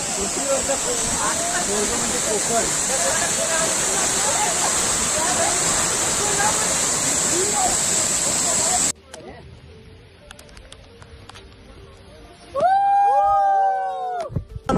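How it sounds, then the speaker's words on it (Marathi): A large waterfall plunges down from Raigad fort in monsoon rain, roaring loud and continuous for about nine seconds before cutting to a quieter scene where people talk near the end. "माझ्या मागे बघताय भयंकर असा धबधबा आहे. वरतून गडावरून खाली येतो."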